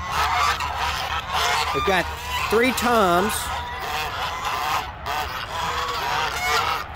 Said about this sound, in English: Those are the fluffy geese. Then we got the African geese.